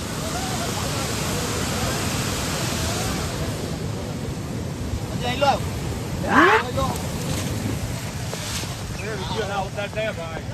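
Waterfall pouring over Willingdon dam in Junagadh during the rainy season, a steady broadband rush of falling water heard continuously with wind buffeting the microphone and brief voices calling out midway.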